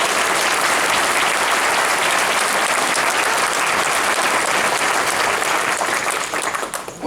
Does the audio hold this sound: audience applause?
yes